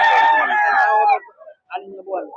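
Black Belsin rooster at a backyard pet market, a single loud close crow lasting about a second, followed by softer clucking and a brief voice.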